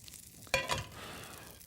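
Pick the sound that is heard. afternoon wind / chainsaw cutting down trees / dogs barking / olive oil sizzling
olive oil sizzling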